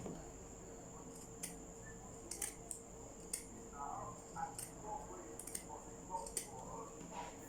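Fabric scissors snipping cloth for a pleated turban cap, a few scattered crisp clicks and cuts, fairly faint over a steady room hum and background noise.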